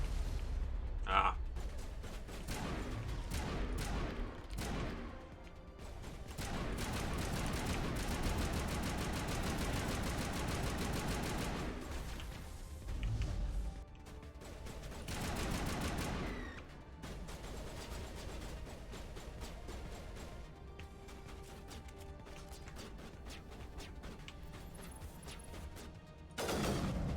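Sustained gunfire and explosions from the Mass Effect Legendary Edition video game, loud and dense with repeated bursts, brief lulls and renewed firing, a voice speaking over the action.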